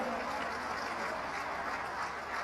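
A rally crowd in Rajasthan gives a warm round of applause welcoming the party's national president, a continuous, fairly soft wash of clapping from many people at a distance.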